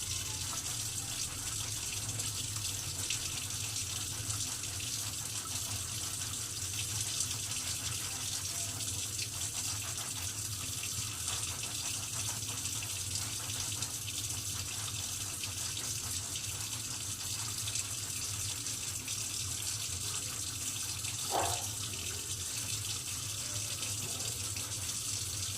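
Tap water runs steadily and close by throughout a surgical hand scrub at a sink, a continuous broadband splashing flow with no talk over it.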